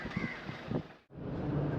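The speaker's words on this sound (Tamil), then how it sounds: "வெளியில நல்லா காத்துங்க, பயங்கர காத்து அடிச்சிட்டு இருக்கு" Strong wind roars steadily against the outside of a moving vehicle on the coastal road at Dhanushkodi, a loud, continuous broadband rush that briefly drops out for a moment before surging back.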